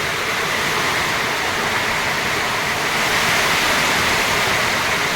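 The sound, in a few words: heavy rain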